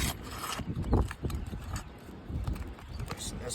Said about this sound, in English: You can hear the granules coming loose.